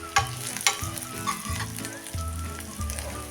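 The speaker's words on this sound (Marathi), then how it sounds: "लो फ्लेमवर परतत राहिल्यामुळे हे कारलं लवकर मऊ पडतं." Bitter gourd sautéing in a pan on a low flame, a steady close sizzle with a few sharp spatula taps and scrapes, no voices.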